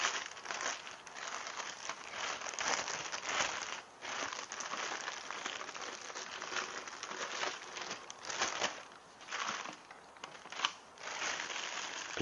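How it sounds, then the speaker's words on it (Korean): Continuous soft crinkling and rustling of a thin plastic cover being peeled off a hydrogen water machine, close and fairly quiet, with irregular crackles. "비닐 커버를 벗겨낸 후"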